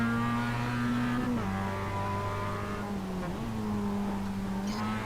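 A race car engine drones in the iRacing sim during a Malaysia championship race, a steady high-revving tone that dips briefly with gear changes and settles back to a sustained pitch.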